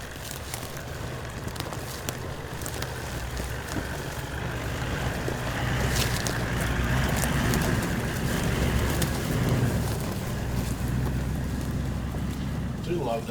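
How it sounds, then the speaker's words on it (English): A V8 four-wheel drive on an off-camber bush track near Devils Hollow rumbles past at low revs. The deep, steady engine drone swells louder midway, then eases, mixed with wind and rough outdoor noise. "I do love that sound of the V8, like especially low revs like that. It just rumbles past you"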